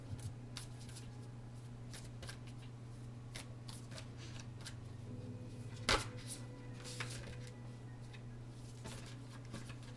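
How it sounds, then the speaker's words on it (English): Playing cards being shuffled in quick, soft riffling bursts and taps, faint and close, over a steady low hum. "I am struggling to shuffle cards right now."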